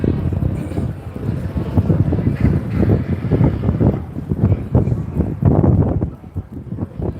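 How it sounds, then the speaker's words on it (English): Wind blows hard outdoors on a city street at the edge of a storm, buffeting the microphone in loud, rumbling gusts that rise and fall throughout. "It's just windy."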